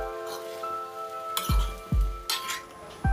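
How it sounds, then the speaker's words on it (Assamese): Chicken fried rice stirred in a pan with a utensil, a few sharp scrapes and clinks against the metal over a steady low sizzle, close and moderately loud with no talking. "মই পুনৰ লৰাই দিম"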